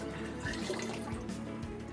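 Water is poured into a pressure cooker in a soft, continuous splashing stream, close by and fairly quiet.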